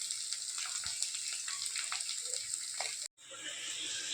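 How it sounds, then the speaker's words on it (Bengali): Luchi puffed flatbread deep-frying in hot oil in a Bengali home kitchen at night, a steady close crackling sizzle that drops out abruptly for a moment near the end before resuming. "দেখো বন্ধুরা, লুচি ভাজছি"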